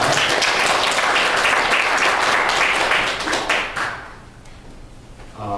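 A church congregation claps for the choir in a brisk, dense burst that fades quickly toward the end, leaving a quieter room.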